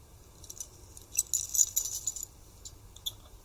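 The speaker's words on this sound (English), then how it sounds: "Various keys." A bunch of various keys from an everyday carry pocket dump jangles and clinks in a bright metallic flurry for about a second, with a single stray jingle afterward, close up and alone.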